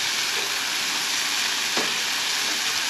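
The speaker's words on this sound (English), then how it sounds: "Then I'm gonna add in tomato sauce. Just a little, and then a little bit of oil." Tomato sauce and a little oil sizzle steadily in a pan while cooking Kenyan kunde, a close, continuous bright hiss with one brief louder spatter near the end.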